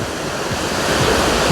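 Shallow sea waves wash steadily onto a beach, a continuous broadband surf rush that swells slightly louder toward the end, with no voices.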